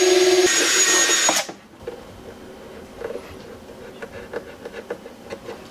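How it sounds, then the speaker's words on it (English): A power drill bores a center hole for car stereo wiring in a 2017 Chevrolet Camaro ZL1, running loud and steady with a high whine for about a second and a half, then stopping abruptly, followed by faint clicks and handling noises. "Drilling my center hole now."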